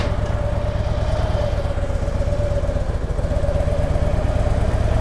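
A Harley-Davidson motorcycle fitted with landing gear runs steadily up close while circling slowly, its throbbing low putter constant with a faint whine on top, no voices over it.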